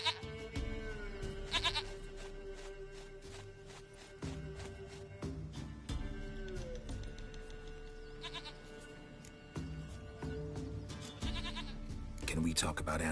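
Goat bleats from The Witcher 3 recur through a busy game soundscape, with a voice talking over parts of it and the bleats moderately close.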